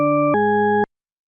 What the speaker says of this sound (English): It's an auditory illusion called the tritone paradox